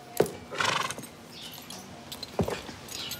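A breeding stallion, a Corland x Kannan cross, whinnies once in a long shrill call between two sharp nearby thuds, with faint stable noise behind and no talking.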